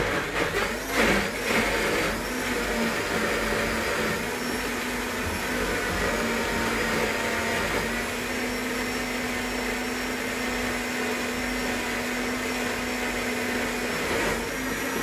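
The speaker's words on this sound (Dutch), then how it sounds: "Even in de blender." A kitchen blender runs continuously, whirring at a steady high pitch while mixing a salad dressing of vinegar and a drop of sesame oil, with no talk over it.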